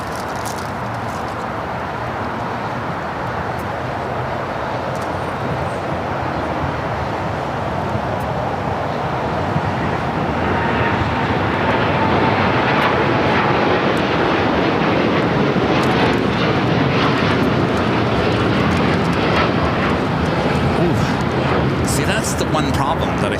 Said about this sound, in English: Flight 32, United Dreamliner now rolling down 25 right.